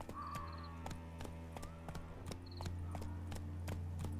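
Roach the horse galloping in The Witcher 3, a quick, steady run of hoofbeats clopping hard and close, with a brief faint voice and light ambient tones underneath.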